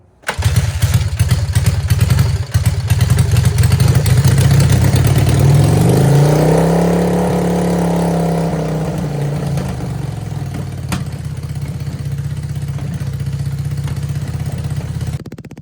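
A 1978 Honda Hondamatic CB400A motorcycle, just rescued from a scrapyard, runs close by with a steady, loud idle; about halfway through the revs rise and sink in one smooth swell, then it settles back to an even idle.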